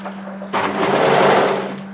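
Sewing machine stitching layers of beanie fabric, a steady mechanical whir that starts abruptly after a brief low hum and runs continuously, close and fairly loud.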